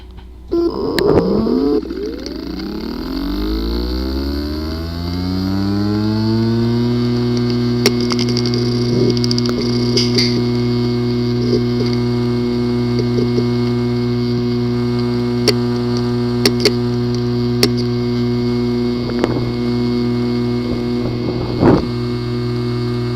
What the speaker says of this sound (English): The following is the sound from one of the hard drive which experienced disk assembly physical damage.